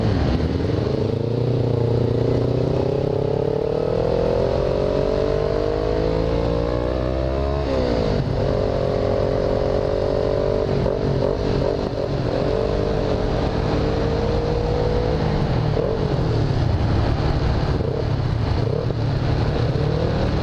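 A motorcycle with a stuck throttle revs loudly and continuously, its engine pitch climbing and sagging in long sweeps with a brief dip partway, close and alone without talk.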